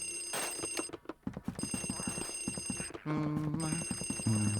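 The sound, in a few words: telephone ringing in Luigi's Mansion video game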